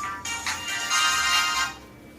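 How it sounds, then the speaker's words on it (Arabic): A telephone rings in a short electronic ringtone burst, loud and close, pulsing for about a second and a half before cutting off, with no voices over it. "بيرن."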